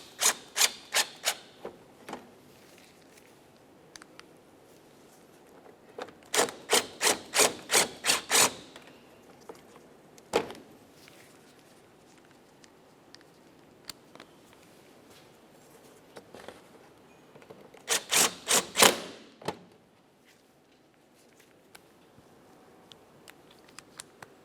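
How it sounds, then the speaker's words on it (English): Mounting bolts are driven into a headlight assembly on a 2009-2010 Pontiac Vibe, heard as quick bursts of rapid ratcheting clicks spaced by quiet pauses and the odd single tap, up close. "Let's start putting in our mounting bolts going across both sides."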